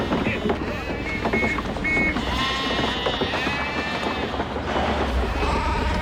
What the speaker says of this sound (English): What the hell are these sheep doing here?